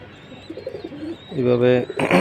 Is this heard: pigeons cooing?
yes